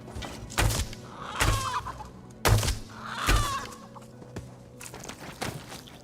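Chickens clucking in a video game, a handful of short squawks and clucks spaced apart, heard over dull thumps and a low steady game background.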